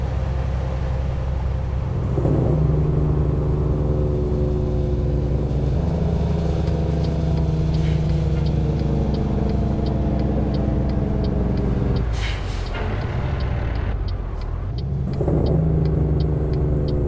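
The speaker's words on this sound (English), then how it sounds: "hearing that constant whine of the tires on the road" Steady tire whine and engine rumble from a car cruising on a highway toward San Diego, continuous and close throughout, with brief rushes of passing traffic near the end.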